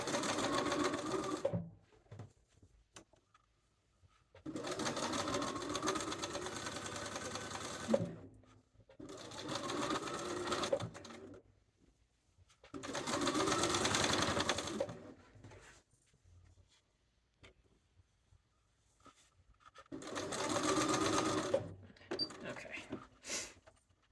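A sewing machine stitches a fabric sleeve for a cuffed duster coat in several close, steady whirring bursts separated by pauses, while a voice talks quietly between the runs.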